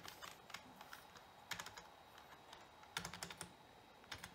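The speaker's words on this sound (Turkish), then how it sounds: "Klavyeden yazalım mesela." Typing on an A101 Piranha gaming keyboard into a blank document, steady light key clacks with a few louder heavier strokes, close-miked over a faint hiss, no voices.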